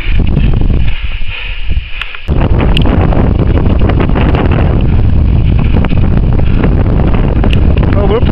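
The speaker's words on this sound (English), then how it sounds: "It's got windy." Strong wind buffets the microphone on a steep, scree-covered mountain ridge near Red Pike by Buttermere, a loud continuous roaring rush with a brief lull around the second second.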